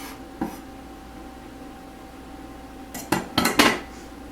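Plates and pans clatter in a kitchen while cooked aloo parathas are piled up, a single light clink early, then a quick cluster of sharp ceramic and metal knocks over steady background hiss.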